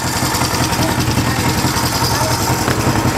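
A vehicle engine idles steadily at close range throughout, a continuous low rumble with a faint regular pulsing and no revving.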